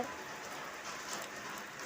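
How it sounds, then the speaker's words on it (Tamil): Steady rain falls and patters on surfaces in an even, continuous wash, fairly soft and close, with no voices over it. "இவ்வளோ நாளாக அடித்து கொளுத்துன வெயிலுக்கு எங்களுக்கு நல்ல மழை இப்போ"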